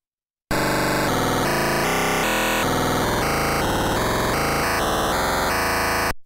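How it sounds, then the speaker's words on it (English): A random noise waveform from the Amiga OctaMED synth plays as a loud, harsh, buzzing digital tone that changes character every fraction of a second for about six seconds, then stops abruptly. "Every time we press the noise button, it will generate a different, random noise."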